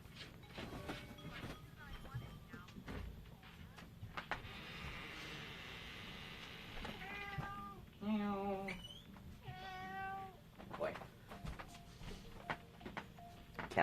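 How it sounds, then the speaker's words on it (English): A cat meowing outside a room door to be let in, a series of faint, drawn-out plaintive meows in the middle of the recording over low background noise and scattered clicks. "Cat wants to come in my room again."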